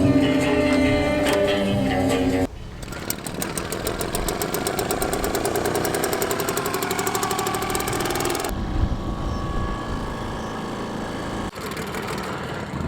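A small outboard dinghy engine runs steadily in a pub car park, buzzing and puttering at close range with slight shifts in pitch, loud and continuous.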